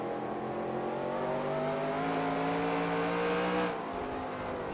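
A leader's race car in NASCAR Racing 2003 Season at Catamount Stadium roars by with a loud, steady high engine drone that holds, then cuts away abruptly near the end.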